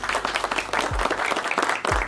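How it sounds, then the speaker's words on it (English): Applause greets a viewer during a live stream: a short, dense burst of clapping that fills the moment, with low swooping tones underneath. "Applause for Stigman."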